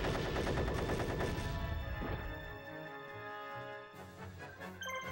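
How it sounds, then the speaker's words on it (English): Cannon strike landing on Karibo in Yu-Gi-Oh! The Falsebound Kingdom: a rapid rattling barrage of blasts for a couple of seconds, then a sustained chime-like ringing and a brief flurry of sparkly hits at the close. "Your cannon is going to hit Karibo."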